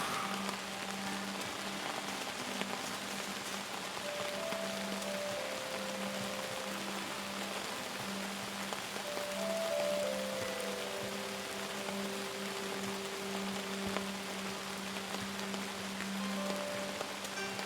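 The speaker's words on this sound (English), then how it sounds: "Oh, it's raining." Steady rain falls in the mountain setting of the game Outbound, a continuous even patter with soft background music tones running underneath and no voices.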